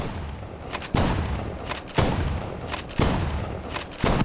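Gunfire from a boss fight in the shooter game OutlawZ: four heavy shots land about once a second, each a sharp broadband crack over a steady roar of continuous background fire.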